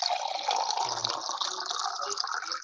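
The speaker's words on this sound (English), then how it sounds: "I just heard somebody drinking some water." Someone drinking water during a talk on sprouting, heard as a continuous close, watery rush and slurp that runs steadily through the whole moment with no clear speech.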